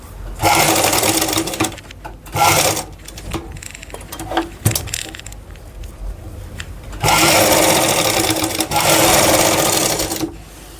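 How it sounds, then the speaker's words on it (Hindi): A sewing machine stitching fabric at a neckline, running in loud, steady whirring bursts with short pauses and light handling noises between runs, close to the listener. "इसको हम सीधा गले से सटाकर सिलाई लगाएंगे"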